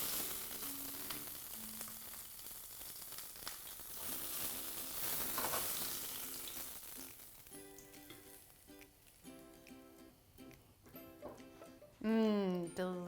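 Pork cutlets sizzle steadily in a frying pan, a fairly quiet, continuous hiss with someone talking over it and some clinks of utensils near the end.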